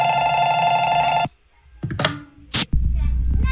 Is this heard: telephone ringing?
yes